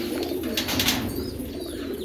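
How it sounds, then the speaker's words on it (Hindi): Old-breed pigeons on a farm coo steadily and close by, a low continuous murmur with a few brief higher chirps over it. "ये पूरे जितने भी कबूतर आप देख रहे हैं पूरे, ये पूरे पुराने नस्लों के कबूतर है ये।"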